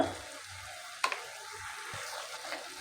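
Chili powder, turmeric and salt fry in a pan for matar paneer, a soft steady sizzle with a single sharp clink of a spoon and a few quieter taps.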